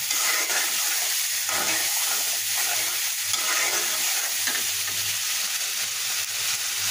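Cubed tomatoes sauté in hot oil, a dense, steady sizzle and hiss with occasional stirring scrapes, close and loud for the whole stretch without any speech.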